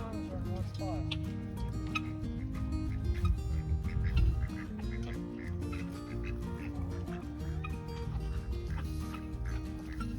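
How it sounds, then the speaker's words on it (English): A duck quacks repeatedly on a farm amid a dense, continuous chorus of other fowl calls, moderately loud and close, with no clear speech over it. "That duck is doing better."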